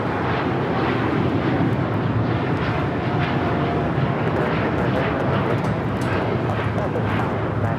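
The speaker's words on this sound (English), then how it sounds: "Japan Airlines, flight 69, taking off to Osaka on the 787-9 Dreamliner." A Japan Airlines Boeing 787-9 Dreamliner on its takeoff roll at LAX produces a loud, continuous rumbling engine roar that stays steady across the stretch, with faint crackling texture layered on top.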